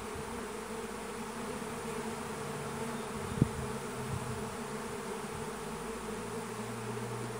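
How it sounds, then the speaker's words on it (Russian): A second honeybee swarm leaving the hive gives a steady, dense buzzing of many bees that holds throughout, with a single brief knock midway and no voices. "уже на язычке на этом собираются вон пчелы, и они бегут вверх туда."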